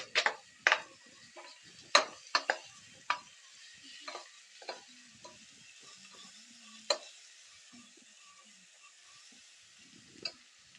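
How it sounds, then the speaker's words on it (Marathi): Onions sizzle in a hot pan with salt while a spoon stirs them, making sharp scraping strokes at irregular intervals over a faint, steady sizzle, close and fairly quiet, with no speech. "कांदा आपला परतून झालेला आहे"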